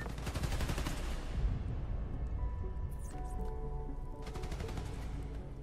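Gunfire in the Spider-Man Miles Morales video game, a rapid stream of shots at the start fading into a rumbling background, then another burst of fire near the end.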